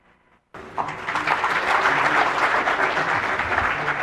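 Sustained applause from a crowd bursts in after a brief moment of quiet and continues steadily and loudly until the end.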